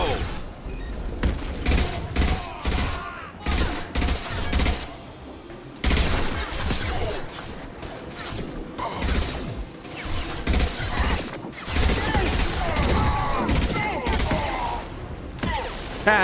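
Gunfire and explosions from the Mass Effect 2 video game crackle in rapid bursts and heavy booms throughout, with dense, chaotic combat noise at moderate volume.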